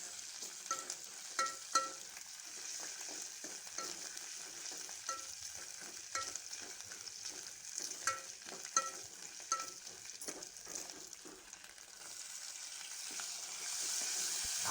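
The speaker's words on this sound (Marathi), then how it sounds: "या सर्वांचं मिश्रण पुन्हा एकदा आपण परतून घेऊया" Ginger-garlic paste being sautéed in a pan for a dry fenugreek and mung bean dish; soft, steady sizzling with repeated scraping and stirring clicks from a utensil, fairly quiet and with no talk.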